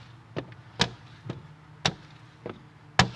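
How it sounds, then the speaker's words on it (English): A Blue Max squeegee pushing tint film across the thin back window of a VW Passat, heard as six separate soft scraping swipes, each a short distinct stroke, close and quiet over a low hum. "That's the sound of a Blue Max on a thin back window."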